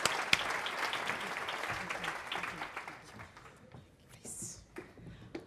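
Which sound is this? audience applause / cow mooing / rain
audience applause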